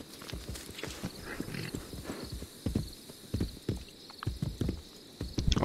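Horse hooves clip-clop in the video game Assassin's Creed Brotherhood, a quick steady run of hoofbeats growing louder toward the end.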